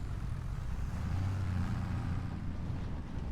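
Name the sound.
tractor engine in the video game Riverbend Springs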